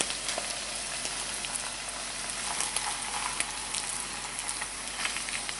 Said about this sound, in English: I can hear it sizzling. Starting to sizzle.